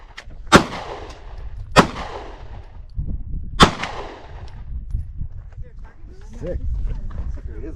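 A .45 pistol fired outdoors in the Arizona desert near Tucson, three sharp loud cracks spaced about a second apart, with voices talking and moving around between and after the shots.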